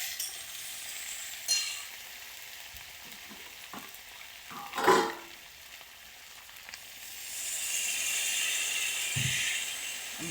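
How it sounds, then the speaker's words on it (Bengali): Spice paste with cumin and coriander powder and a splash of water frying in a pan, a soft steady sizzle broken by scraping stirs and clinks of a spatula, the hiss rising louder near the end. "একটু জিরে গুঁড়ো, আর একটু ধনিয়া গুঁড়ো দিয়ে মশলাটাকে কষে নেবো ভালো করে। একটু জল দিয়ে কষে নেব।"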